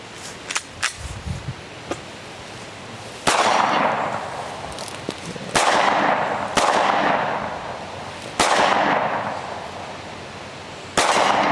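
Sharp, loud gunshots from a Glock 19 pistol fitted with a Trijicon red dot and TLR 7A light at an outdoor shooting range, five spaced reports, each with a long ringing decay.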